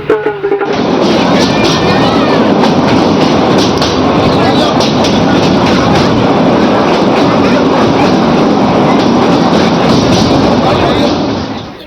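A train at Kishanganj station fills the scene with a loud, steady rumble and rattle from start to finish, a dense close-up roar with faint clanks in it.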